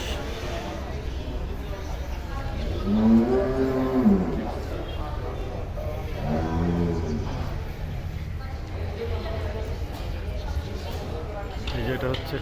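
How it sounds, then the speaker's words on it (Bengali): On a large traditional farm holding big cattle and buffalo, two deep, drawn-out moos rise and fall a few seconds apart, with people talking in the background. "এখানে রয়েছে মহিষ"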